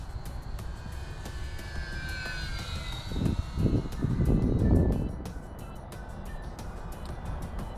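A radio-controlled Avios Twin Otter model plane whines overhead in snow, its pitch sliding as it passes, with a gusty rumble of wind swelling briefly in the middle.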